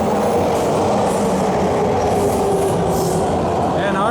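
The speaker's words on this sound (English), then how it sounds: "And our train's coming too." A Toronto TTC subway train arrives at a station with a loud, steady roar of wheels on rails that fills the platform, and a rising metallic squeal comes near the end.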